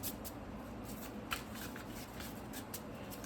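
Tarot cards shuffled by hand on a table, giving a soft, steady rustling and riffling that runs quietly throughout with faint clicks.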